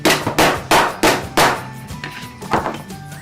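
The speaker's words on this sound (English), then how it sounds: "Let me get a hammer." A hammer striking a cheap plastic trap in an auto shop, delivering four sharp, loud whacks in a steady rhythm, followed by a few lighter, scattered knocks.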